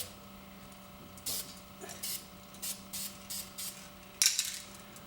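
A spray nozzle applying tack coat on an SS Camaro brake job, giving a series of short, faint hissing spurts in an uneven rhythm followed by a sharper burst near the end, in a quiet workshop.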